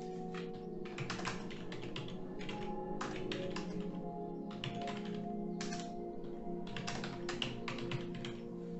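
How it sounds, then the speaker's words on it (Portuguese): Typing on a keyboard hooked up to an Xbox console: steady bursts of quick keystroke clicks with short pauses between runs, close and fairly quiet, with no voices. "já posso começar a digitar"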